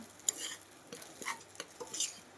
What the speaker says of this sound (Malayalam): ഒന്ന് കുറച്ച് നേരം ഇതേപോലെ ഒന്ന് ഇളക്കി കൊടുക്കണം കേട്ടോ